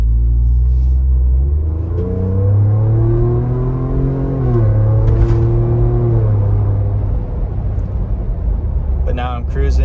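A Ford Bronco with a 10-speed gearbox accelerates under throttle, deep exhaust rumble climbing through a shift with a drop and rise in pitch, heard from inside the cabin with someone talking over it.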